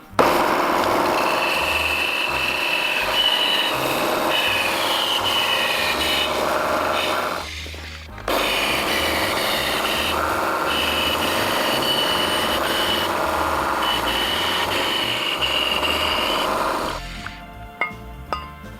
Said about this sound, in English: So yep, let's get to the bandsaw.